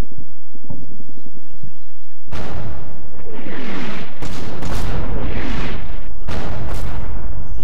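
Heavy artillery barrages in a Combat Mission: Red Thunder wargame, German guns firing, with loud booming blasts and rumbling explosions starting after a quiet opening and recurring in several big bursts.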